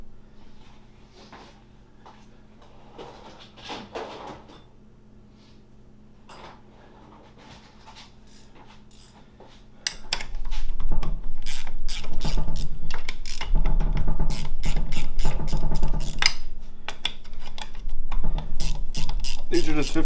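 Ratchet wrench backing out 15 mm bolts from the transfer case adapter of a 2004 GMC Sierra 4L60e transmission; quiet clicking at first, then rapid, loud, continuous ratcheting clicks over a low hum.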